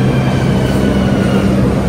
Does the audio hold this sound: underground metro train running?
yes